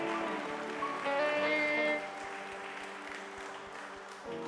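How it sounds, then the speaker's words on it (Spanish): A crowd at a church service claps steadily, a sustained musical tone beneath it; the clapping swells briefly, then settles to a lighter patter. "Denle un aplauso bien fuerte a Jesús"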